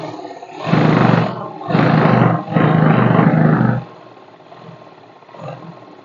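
An electric sewing machine stitches the last seam on straight-cut trousers, running its motor in three loud, steady bursts of about a second each with short pauses between, then falling to a faint hum.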